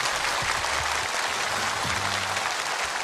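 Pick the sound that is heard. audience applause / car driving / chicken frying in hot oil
audience applause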